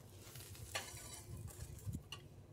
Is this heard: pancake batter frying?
yes